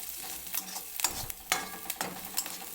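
Onion fries in a pan for masoor dal, a low sizzle punctuated by repeated sharp clicks and scrapes of a stirring spoon.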